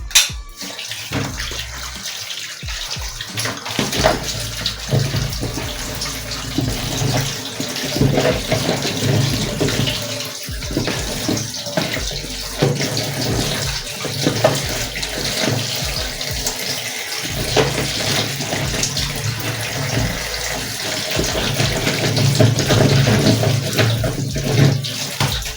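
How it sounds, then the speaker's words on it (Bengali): Tap water runs continuously and fairly loudly into a sink while pointed gourds are washed, with splashing and shifting as the vegetables are handled throughout. "এবার আমি পটলগুলোকে ধোবো।"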